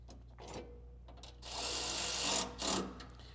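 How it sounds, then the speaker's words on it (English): A 14 millimeter ratchet wrench tightens a hidden LED light bar mount on a Toyota bumper, giving a few short clicks followed by longer bursts of rapid ratcheting, close and fairly loud. "we are going to take our 14 millimeter and we are going to tighten it."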